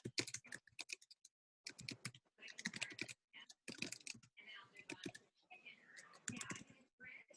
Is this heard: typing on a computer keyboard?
yes